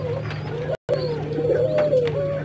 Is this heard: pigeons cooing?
yes